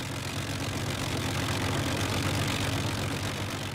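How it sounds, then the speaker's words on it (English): Four Rolls-Royce Merlin engines of an Avro Lancaster bomber droning together in a steady, dense, throbbing roar with no pauses and no voices. "The sound of 4 Merlins"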